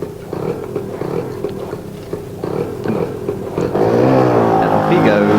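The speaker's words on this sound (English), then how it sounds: "So now you see he's got a moped." Moped engine sound effect in a radio comedy broadcast, puttering under voices before revving up and pulling away, louder and rising in pitch at the end.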